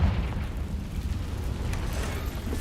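A Confringo blasting spell erupting in Hogwarts Legacy, a deep booming explosion that hits hard at the start and rolls on as a dense low rumble.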